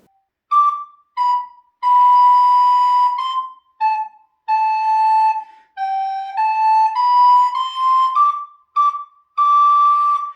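A recorder plays a simple melody of separated notes, some short and some held, with clean breaks between them and no other sounds.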